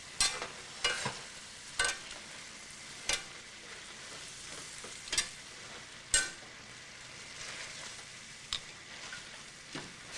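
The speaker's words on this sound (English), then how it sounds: "So I'm cooking the pasta in the sauce, so it is absorbing into the pasta some of the flavors" Pasta cooks in sauce in a pan with a soft, steady sizzle and bubbling, broken by periodic scraping clacks of a utensil stirring, close and fairly quiet.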